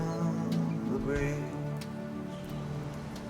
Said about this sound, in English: The rain is beginning to fall on Skid Row